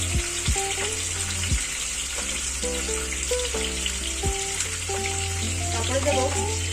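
Mustard paste with a little water sizzles steadily in a wok, a loud continuous frying hiss, with faint knocks and scrapes from stirring on top.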